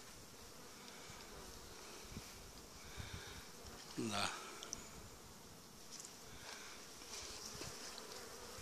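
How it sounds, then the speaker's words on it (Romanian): Carpathian honey bees buzz steadily at a crowded hive, a continuous close drone running throughout, with a brief spoken word near the middle. "E full de albine."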